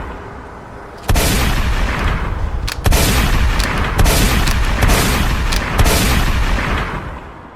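A series of loud gunshot blasts rings out in a dramatic scene, several heavy booms spaced about a second apart over a dense, noisy background.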